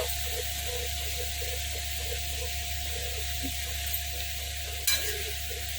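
Snake gourd curry sizzles steadily in a pan while sesame spice powder is stirred in, a continuous close frying hiss with a faint clatter of the utensil near the end.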